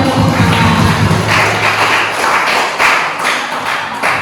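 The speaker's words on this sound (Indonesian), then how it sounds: "tepuk tangan dulu buat kita semua" Children in a village gathering in Melawi, Kalimantan clap together in a loud, dense burst. The clapping comes with thumps and crowd noise and continues for several seconds without any talk.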